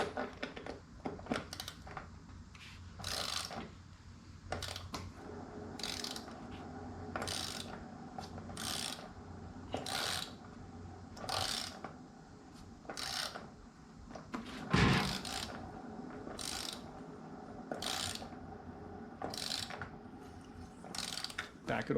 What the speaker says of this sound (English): So I'm hearing a little rubbing, a little resistance